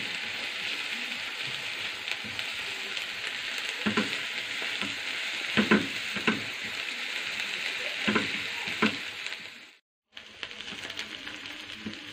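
Onions reddening in a frying pan give a continuous close sizzle with scattered crackles and a few stirring scrapes, broken by a brief dropout near the end.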